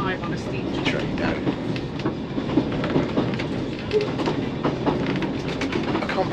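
Steam train on the Talyllyn Railway, a steady rumble of carriages with faint rhythmic rail clatter running throughout, with people talking over it.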